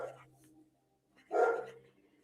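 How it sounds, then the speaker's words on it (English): Dogs bark nearby during a coloring session, a short burst of barking standing out after a faint earlier yelp, with quiet room tone between. "Oh, sorry, dogs are barking."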